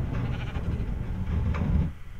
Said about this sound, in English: You evil sheep!